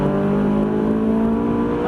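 Ferrari 458 accelerating hard on the Croix-en-Ternois circuit, a loud, steady, close engine drone with strong harmonic tone held for under two seconds.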